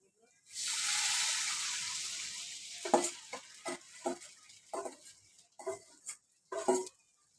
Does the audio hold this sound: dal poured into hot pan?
yes